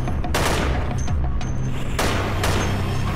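Loud, close gunfire in the shooter Dead Effect, two sharp blasts about a second and a half apart with ringing tails and mechanical clatter between them.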